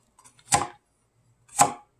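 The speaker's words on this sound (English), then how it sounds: "I'm gonna move this over and do a little demonstration of the carrots." A Misen chef knife chops carrots on a cutting board, giving two crisp, close chops about a second apart with faint light taps before the first, alone with no talking.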